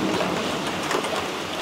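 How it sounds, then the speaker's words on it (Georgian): Heavy rain pours steadily on a Saturday morning, a dense, continuous hiss of drops drumming on surfaces close by, with no voices over it. "საშინლად წვიმს."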